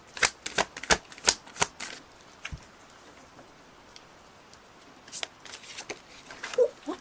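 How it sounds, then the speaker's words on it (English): Tarot cards riffle-shuffled in quick bursts of crisp flutters, a flurry early on, then a quieter pause before a few more shuffles near the end; close and clear with no talking. "Way too many cards, universe."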